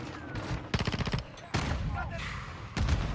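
Gunfire in the shooter game Modern Warfare II, with rapid bursts of automatic shots and sharp single reports over a busy match background, loud and close.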